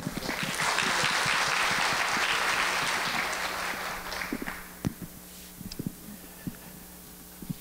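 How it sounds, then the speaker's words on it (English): Audience applause welcoming a speaker at a presentation on North Korea's ecosystem: dense, loud clapping for about four seconds, then thinning into scattered claps and fading out. "Please welcome him with a big round of applause."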